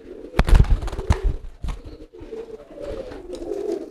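Domestic pigeons cooing loudly in courtship, deep throaty coos repeating in uneven bursts close by, with a few sharp knocks and brief wing flutters mixed in.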